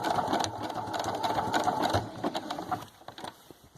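A sewing machine stitches a buttonhole-style satin edge around an appliqué on a garment, a close, dense whirring chatter that thins into a few scattered stitches at the end.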